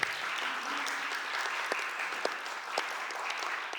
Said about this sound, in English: Give them a round of applause on the administration side.